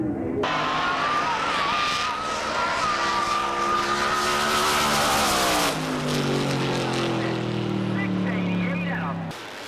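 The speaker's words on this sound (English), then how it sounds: "Local racer and Chevrolet fan favorite Bruce Larson makes a pass in his USA 1 Camaro" USA 1 Camaro drag race car making a pass at a US 30 drag strip in York, a loud roaring engine whose pitch climbs then drops as it passes, fading away at the end.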